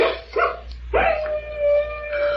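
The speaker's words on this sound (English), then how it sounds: "Oh, listen. And darn wolf." A wolf howl sound effect from an old-time radio mystery drama set in Arizona: brief yelping cries, then one long, steady, drawn-out howl that carries clearly to the end.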